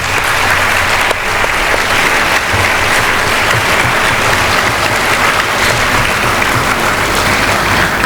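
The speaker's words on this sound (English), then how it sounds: "let us all give him a very good round of applause." Audience at a college event breaks into sustained, dense applause, loud and even for several seconds with no speech over it.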